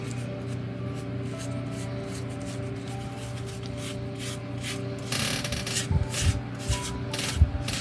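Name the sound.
rubbing off excess filler on wooden ship model hull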